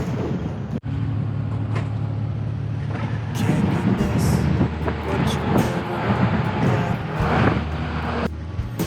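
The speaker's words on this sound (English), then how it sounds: "we're on the open top bus back to Penzance" Open-top bus riding back to Penzance, with a steady low engine drone and road rumble running throughout, wind buffeting and passing traffic swelling in the middle, and people talking faintly aboard.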